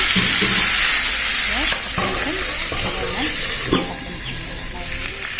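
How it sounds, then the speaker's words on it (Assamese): Steady loud sizzling of potatoes and banana flower frying in a pan, with scraping and stirring sounds throughout and a brief muffled voice in the background. "এয়া চাওক আলুৱে কলডিলে 5 মিনিটমান ভাজি ল'লোঁ"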